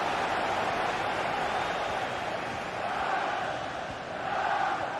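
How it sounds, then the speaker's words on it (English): A football stadium crowd in a video game roars in a continuous, dense wall of chanting and cheering, swelling slightly toward the end with no pauses. "just listen to this crowd"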